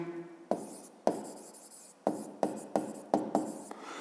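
A pen scratches across paper in several quick bursts of writing separated by short pauses, close and fairly quiet, with no talking.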